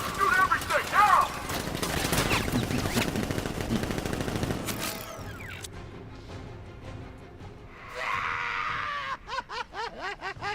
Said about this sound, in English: Guards! Open fire! Shoot everything!